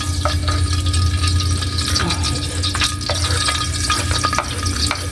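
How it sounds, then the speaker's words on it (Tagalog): Garlic sizzles loudly in hot oil for native chicken adobo, a dense continuous frying hiss broken by scraping stirs and clinks of the spatula, close up with no talk. "At ilagay po yung bawang"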